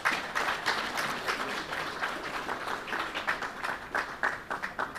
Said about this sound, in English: give another big round of applause to the President as he exits